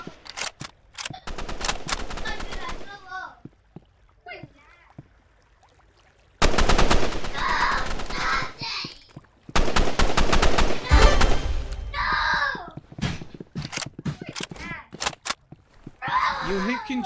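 Video game gunfire comes in loud bursts of rapid automatic shots, with a few single cracks, broken by short quiet gaps. A voice talks in between and over the shooting.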